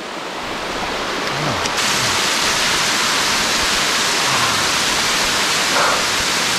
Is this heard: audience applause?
no